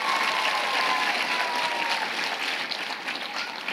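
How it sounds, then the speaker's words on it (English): Sustained audience applause at a primary school winter concert, a full, even wash of clapping from a crowd that holds steady throughout with only a slight easing toward the end. "Let's give Noah another round of applause"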